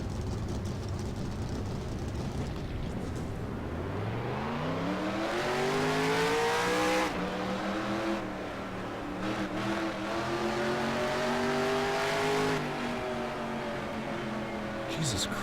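Several NASCAR race car engines in the NASCAR Racing 2003 video game fire up and rev, their pitch climbing into a loud, sustained droning roar that holds steady, with a voice faintly beneath.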